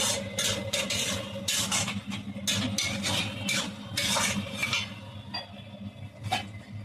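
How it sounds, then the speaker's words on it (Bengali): A spoon stirs fish-head muri ghonto curry in a pot after garam masala is added. It makes a series of close metallic scrapes and clinks in an uneven rhythm over a low kitchen hum. "গরম মশলা দিয়ে নেড়ে দেবো।"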